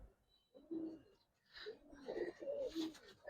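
Giribaz pigeons coo softly nearby in a series of low, throaty burbling calls, several overlapping coos rising and falling against a quiet background.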